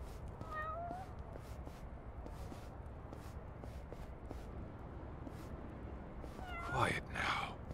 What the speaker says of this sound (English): And naturally, since when I find this cat,